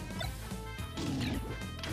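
Giant Donkey Kong's clap attack in Super Smash Bros. Brawl lands as a heavy crashing smash with ringing game effects, over a busy layered soundtrack.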